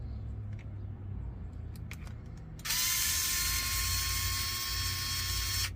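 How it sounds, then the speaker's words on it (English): Small 6-volt electric hand screwdriver backing out screws on a Redcat Ascent 18 RC crawler: a steady, close, whirring motor buzz starts abruptly and runs for a few seconds over low background hum. "Little 6-volt hand screwdriver will save your wrist so much pain later on."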